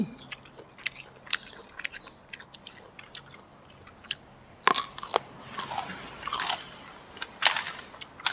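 Crisp, irregular crunching and biting bursts from someone eating fresh paddy snails with a spicy seafood dipping sauce, close to the mic, with quiet gaps between bites and no talk.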